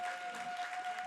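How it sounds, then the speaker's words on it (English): Short burst of audience applause at a science lecture, a steady patter of clapping hands from a moderately sized crowd, fairly faint and even throughout. "A round of applause, come on."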